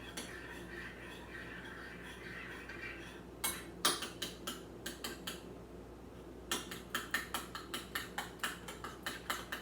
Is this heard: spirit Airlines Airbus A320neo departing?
no